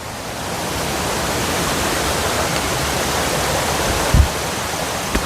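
A waterfall in the Dandakaranya forest, fed by streams from the Karregutta hills, roars in a dense, steady, loud rush of falling water, with a faint knock near the end.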